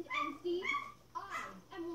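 Lurcher puppies on a ranch whimper and yip in short, high, plaintive bursts close by, several cries overlapping within two seconds.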